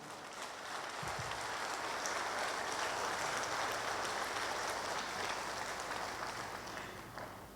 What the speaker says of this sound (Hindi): आप इनका इस्तक़बाल ज़रा ज़ोरदार तालियों से करें